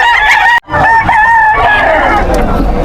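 A rooster crows loudly and up close at a chicken market, a long, drawn-out call with a brief break near the start, over crowd babble and faint talk.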